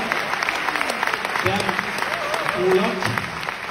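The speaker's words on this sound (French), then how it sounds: "une bonne main d'applaudissement pour votre animatrice Michel Desrochers ce soir." A comedy show audience in Trois-Rivières breaks into loud, sustained applause and cheering that fills the room, with a voice briefly heard over the clapping.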